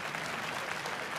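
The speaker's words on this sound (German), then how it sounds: "Einen großen Applaus bitte ganz kurz für den Feedback-Mann" A convention Q&A audience at Polaris Con 2022 gives a short burst of dense, even clapping for the feedback guy.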